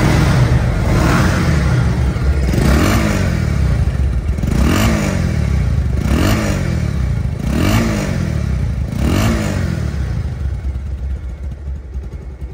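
A Bajaj Pulsar motorcycle engine running close by at idle, with a steady rumble and periodic rev swells roughly every one and a half seconds, loud and without voices.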